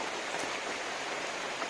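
Steady monsoon rain pours down in coastal Karnataka as an even, dense hiss of falling water with no voices, lasting throughout.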